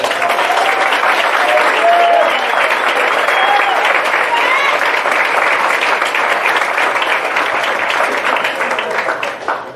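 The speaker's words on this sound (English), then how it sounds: "So another round of applause for him." A high school baseball banquet crowd breaks into loud, sustained applause, dense clapping holding steady for nearly ten seconds before starting to fade at the end.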